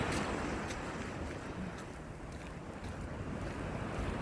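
Cold wind blowing outdoors by the sea, a continuous loud rush buffeting the microphone with faint wave wash beneath, steady throughout with no voices.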